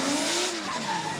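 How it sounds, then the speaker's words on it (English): Drift cars slide sideways at Thursday Night Drift, Adams Motorsports Park in Riverside, tires squealing in a loud sustained howl with a rising and falling pitch under steady engine roar. "get a thrill by seeing who can keep their cars sideways with tires blazing"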